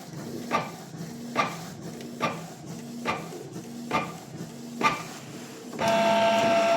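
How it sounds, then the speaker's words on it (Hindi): Canon G-series inkjet printer printing a nozzle check page: regular rhythmic thunks of the print head shuttling back and forth about once a second, then a sustained mechanical whir as the sheet feeds out. "इसमें नोजल चेक प्रिंट आती है"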